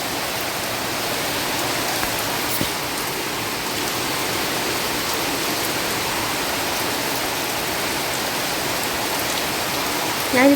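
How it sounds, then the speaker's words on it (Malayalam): Steady, heavy rain falls in a thick unbroken hiss of drops on surfaces outside, loud and uniform, with a brief faint voice at the very end. "ഗംഭീര മഴ."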